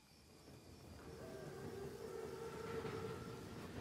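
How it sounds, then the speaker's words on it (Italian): A massive WWII armored train (Panzerzug) in Call of Duty WWII rumbles steadily and grows louder, with faint drawn-out tonal whines over the rolling noise. "Il treno è puntuale. È un treno così grande e così corazzato. È un Panzerzug."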